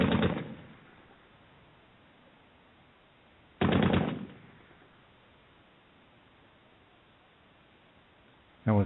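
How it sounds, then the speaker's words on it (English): Heavy machine gun fire in a war zone: three loud, sudden bursts separated by several seconds of low, hissy background, each burst a dense clatter of rapid shots that fades quickly. "That was some heavy machine gun fire we just heard there"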